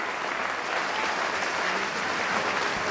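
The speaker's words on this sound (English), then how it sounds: "A huge round of applause for Wrexham's captain, who's played superbly yet again" A football crowd at a Wrexham v Gateshead match gives a dense, sustained round of applause for the Wrexham captain being substituted off, a steady wash of clapping heard from a distance.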